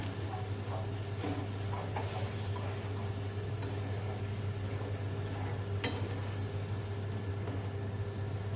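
Marinated soybean chunks frying in a pan for a Bengali soya kosha as water is added, giving a steady low sizzle and bubbling with light stirring scrapes, one sharp clink near the end, no voices.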